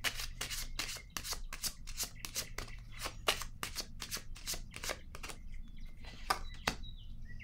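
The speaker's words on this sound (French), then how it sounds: "je vais déposer une carte sur elle" Playing cards are handled and laid down in a close, steady run of crisp slaps and flicks, some quick bursts and some single placements, with faint chirping in the background and no talk.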